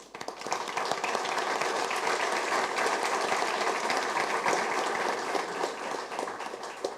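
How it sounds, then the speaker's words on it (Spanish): A large audience at a talk on the Spanish language breaks into loud, steady applause, a dense wash of clapping that holds evenly for several seconds before easing slightly at the end. "Y un aplauso muy fuerte para ella."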